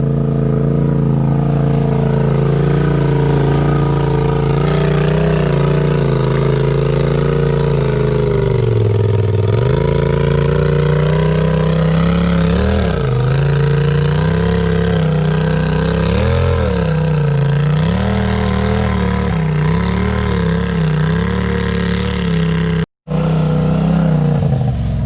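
An off-road vehicle with gear reductions and a tuned clutch crawls over undercut ledges at an off-road park, its mid-pitched engine droning loud and steady with repeated surges and dips in revs under load.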